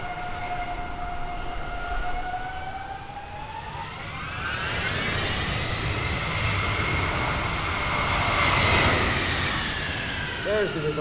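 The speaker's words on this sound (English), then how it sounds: "you may hear the sound of the engines change again as it applies reverse thrust to help slow the airplane down" A C-5 Galaxy's jet engines roar with a rising, whining turbine tone as reverse thrust is applied after touchdown at an airshow, loud and sustained across the runway with a swelling rush midway.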